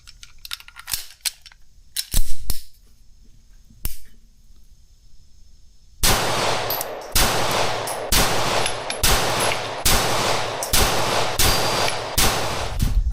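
A Kimber KDS9C compact 9mm pistol fires a magazine of carry rounds at the range: a few scattered clicks and handling noises, then about ten loud, evenly spaced shots in a steady rhythm.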